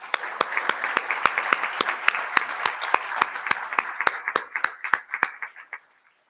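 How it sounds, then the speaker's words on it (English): Applause for award recipients at an excellence awards ceremony: a crowd's dense, steady clapping with sharp individual claps standing out, sustained for several seconds before thinning out at the end. "Can we give them all a round of applause?"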